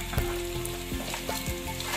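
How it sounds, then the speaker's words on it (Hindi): Onions and dry spices frying for beef pulao crackle loudly and close, with the repeated knock and scrape of a stirring spoon against the pot. "जो ड्राई स्पाइसेस थे वो सारे इसमें ऐड कर दूंगी"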